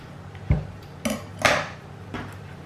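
Scissors snip through a piece of string tied around the waist of a recycled mannequin pin cushion, several sharp, close metallic clicks spaced apart in a quiet room.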